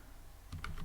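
A few quick, faint key taps on a computer keyboard arrive after a short quiet stretch, close and light.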